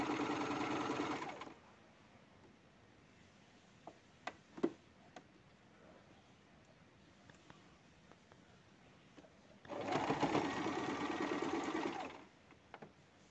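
A sewing machine stitches a patchwork puff pillow made from fabric scraps, running in two steady bursts of about a second and two or three seconds, with a quiet pause between them and no voices.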